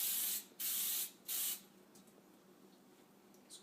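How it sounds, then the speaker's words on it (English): Anti-stick cooking spray such as Pam hisses onto a microwave-safe dish in three short bursts, bright and close at the start, followed by near-quiet room tone with a faint soft tick near the end. "spray the dish evenly"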